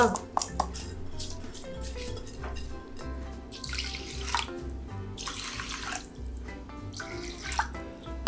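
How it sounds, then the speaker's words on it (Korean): Water poured over soaked rice in a pot for Korean mushroom rice, splashing in several uneven bursts with drips and soft clinks in between, close by, with a low steady hum underneath. "물이 이게 쌀 컵으로 두 컵 반 정도가 들어갔습니다."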